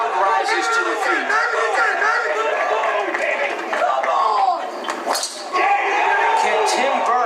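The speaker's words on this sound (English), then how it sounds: "The crowd rises to their feet." A crowd at a World Long Drive golf championship final murmurs and chatters at close range, with scattered clinks and a few claps, under an announcer's commentary.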